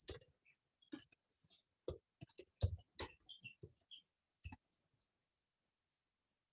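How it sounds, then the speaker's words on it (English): Code typed on a computer keyboard during a VS Code programming session: quiet, irregular clusters of light key clicks with pauses between bursts, close and alone. "So I'll just quickly type this part"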